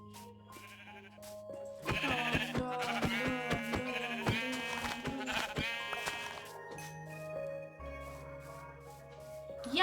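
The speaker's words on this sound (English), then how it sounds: "Any more sheep nearby? Sheep! Sheep!" Sheep bleating in Minecraft, several loud, repeated wavering bleats close together in the middle, with a brief spoken word and a game sound effect after.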